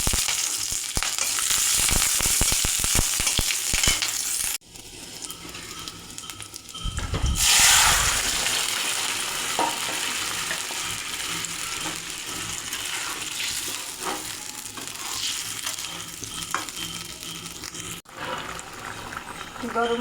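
Bay leaf, cumin, radhuni and green chili fry in hot oil for a Bengali fish curry, a loud crackling sizzle with sharp bursts as ingredients drop in, then settling into a steady hiss.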